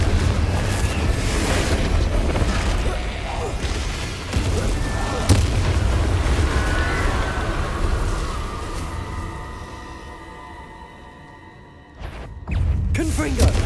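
Heavy booming blasts from the Confringo fire spell, cast against Inferi in Hogwarts Legacy, roll in a dense, loud rumble that fades and then returns with sharp bursts near the end.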